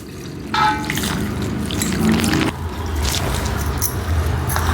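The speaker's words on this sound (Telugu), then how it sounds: "మేమైతే నీళ్ళు వేస్తున్నాం పోసుకోవాలి" Water pours steadily into a batch of mango pickle during a home recipe, a continuous splashing stream heard up close with a brief change in flow partway through.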